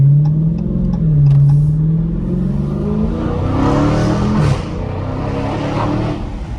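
A Dodge Scat Pack with a muffler delete and its exhaust valve fully open in track mode revs hard, the loud, raspy engine note climbing and falling through several throttle blips, close and continuous.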